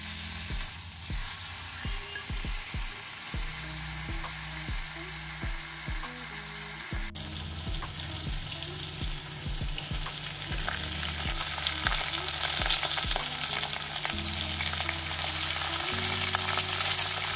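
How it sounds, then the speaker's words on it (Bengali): Onion, garlic and green chilli frying in a little leftover fish oil in a pan, giving a steady loud sizzle with occasional stirring scrapes and clinks, growing brighter and more intense toward the end, with no talking. "অল্প একটু মাছের তেল আছে, ওটাকে কিন্তু আমি পেঁয়াজ, রসুন আর কাঁচা লঙ্কা দিয়ে আজকে ভাজবই ভাজবো।"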